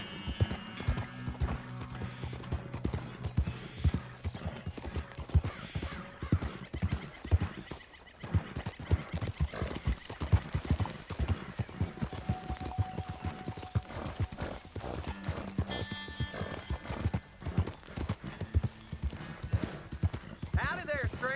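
Horse hooves clip-clop in a steady rhythm in the Western video game Red Dead Redemption 2, with a horse whinnying and characters talking over the constant hoofbeats.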